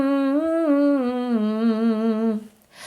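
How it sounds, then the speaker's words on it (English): A singer holds one nasal hum, starting on a closed NG sound and shifting to an M sound, with slight pitch wavering. The single sustained note sounds close and steady, then stops abruptly near the end. "We will do a completely nasal sound on NG sound"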